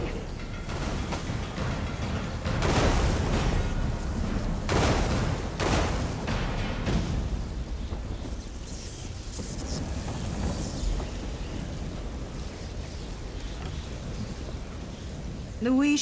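Heavy storm weather in the game ESO, with steady rain hiss and rumbling thunder bursts standing out near the start and middle, while voices talk over the storm throughout.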